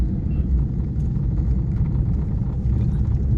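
A car engine and road rumble heard from inside a moving car during a test drive, a steady loud low drone with continuous tyre and road noise and no voices.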